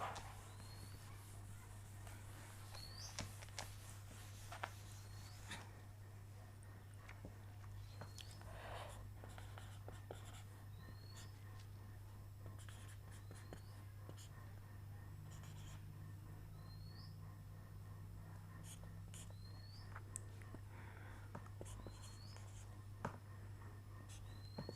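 A pen scratches out chemistry notes in a classroom, soft intermittent strokes and short squiggles heard close but faint over a constant low electrical hum.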